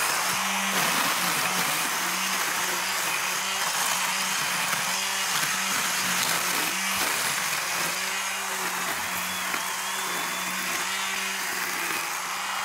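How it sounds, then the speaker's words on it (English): A DeWalt 20V MAX DCST922b cordless weed whacker cuts tall grass, giving a steady, continuous buzzing whine with pulsing load changes that runs through the whole stretch at close range, with no talking. "It's still just some guy with a weed whacker, Steve."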